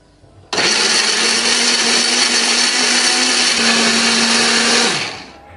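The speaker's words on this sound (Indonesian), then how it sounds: "Bumbu ini akan kita haluskan menggunakan blender ya" Electric blender grinding a spice paste of ginger, candlenut and pepper with a little water: it switches on abruptly, whirs loud and steady at close range for about four seconds, then winds down as it is turned off.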